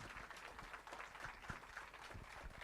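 Audience applause for school band directors at a memorial celebration of life held by a public school district, steady dense clapping sustained throughout at a moderate, somewhat distant level.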